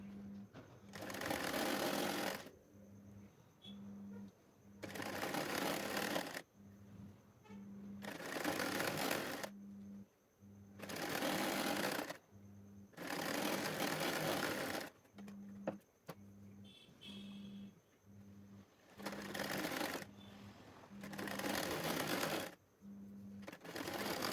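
A sewing machine stitches net lace fabric for a suit in repeated bursts of rapid mechanical whirring, each run lasting a couple of seconds and separated by short quiet pauses, close and steady.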